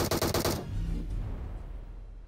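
Rapid automatic gunfire in a mobile battle-royale shooter, a fast loud burst of shots lasting half a second, then a low rumbling tail fading away.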